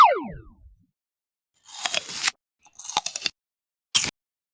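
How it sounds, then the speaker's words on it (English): Loud chewing and chomping: a springy bouncing tone opens, then after a pause come several crunchy bursts of open-mouth biting, each separated by silence, with a final short chomp. "Chomp. A loud chewing sound."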